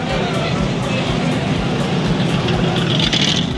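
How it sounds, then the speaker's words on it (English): Supercars and other traffic move along a busy street in Marbella, Spain, making a continuous loud engine and road rumble with no single car standing out. "All the supercars are going around."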